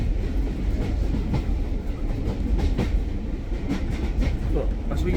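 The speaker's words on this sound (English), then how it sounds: "as we ride on a old loco" Ride aboard a train hauled by an old diesel locomotive on a heritage railway gala, with a steady rumble and faint rhythmic wheel clicks filling the carriage throughout.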